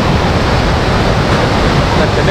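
Marmala waterfall near Teekoy, a dense, steady roar of rushing water close by, broad and unbroken throughout.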